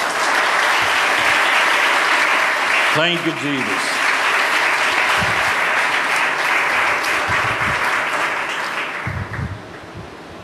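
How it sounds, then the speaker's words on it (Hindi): A church congregation at an Urdu-language Bible sermon breaks into loud, sustained applause that fills the room and fades near the end, while a voice briefly calls out over the clapping. "आइए खुदावंद के लिए एक दफा जोरदार तालियां दें."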